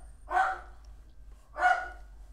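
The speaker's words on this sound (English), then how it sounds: "Stop barking!" A dog barks indoors in a house, two loud, separate barks about a second apart over a low background hum, with no talking.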